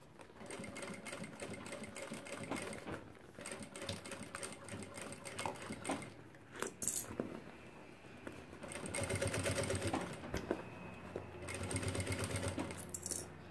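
A sewing machine runs a safety seam on a fabric organizer near a strap, its rapid needle chatter rising and falling in bursts with brief pauses between runs.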